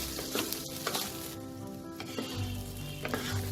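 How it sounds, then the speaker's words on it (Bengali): Rice for soya bean pulao frying in a pan, a steady crackling sizzle with repeated stirring scrapes throughout, close and fairly loud, with no talking. "ততক্ষণ আমি চালটাকে ভেজে নেব।"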